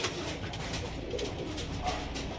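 Pigeons, Teddy Mada birds among them, coo softly in a loft, low repeated throaty calls over a faint, steady background rustle, with no talk over them.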